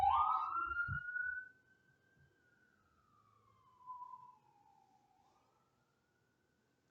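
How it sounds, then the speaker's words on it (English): A siren passes by outside, heard faintly through walls as a single long rising and falling wail that fades away, following a few seconds of low room noise. "I'm gonna wait till the siren go past"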